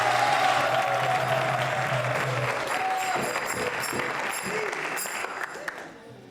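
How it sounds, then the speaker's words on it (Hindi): Studio audience at a Sanatan Dharma quiz show applauding Bageshwari Sharma, dense sustained clapping that fills the room, with a voice speaking faintly over it before the applause fades out. "भागेश्वरी जी के लिए तालियां जोरों से बजाइए।"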